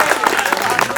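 A rural farmers' meeting audience claps briefly, a short burst of scattered hand claps mixed with nearby voices.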